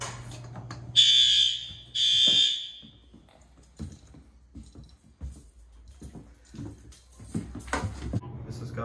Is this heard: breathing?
no